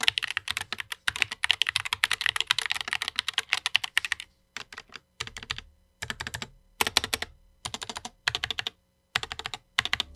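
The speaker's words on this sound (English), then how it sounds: "we'll listen to a sound test real quick as well" Typing on a mechanical keyboard fitted with XVX wood PBT keycaps, a close, steady clatter of keystrokes that comes in bursts with short pauses, ending in separate clusters of presses.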